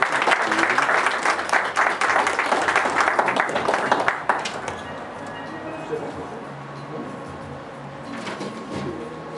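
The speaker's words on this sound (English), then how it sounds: "I want you to give a round of applause also for the person who put all these wonderful snippets together." An audience at an Islamic center event bursts into loud, dense applause for about four seconds, then the clapping thins and fades into quieter room noise with a faint late flurry.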